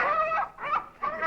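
A chicken clucks in three short, rising bursts during a televised comedy variety sketch, fairly close and clear with no talk over it.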